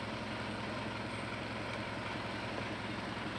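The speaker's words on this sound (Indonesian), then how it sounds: "Mesin suaranya jadi enak." A Mitsubishi car engine idles in a workshop during repair of an EGR system fault, a steady, even, low rumbling hum that holds constant throughout with no voices.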